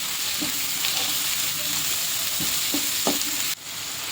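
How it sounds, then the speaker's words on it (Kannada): Carrots and beans stir-frying in a pan for veg fried rice, a steady close sizzle with a few soft scraping stir strokes, no talk. "ಇದು ಸ್ವಲ್ಪ ಫ್ರೈ ಆಗಲಿ."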